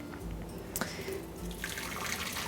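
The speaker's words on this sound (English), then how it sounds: "I'm going to start by pouring my water in." Hot water, boiled to about 100 degrees, poured from a kettle into a cup for a homemade morning drink, a steady close splashing trickle running throughout with no talk.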